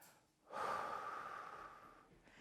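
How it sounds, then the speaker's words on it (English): A slow exhale out through the mouth during a guided mindful breathing exercise at home, a soft airy breath lasting about one and a half seconds, close and quiet with no talking. "and then breathe out through your mouth."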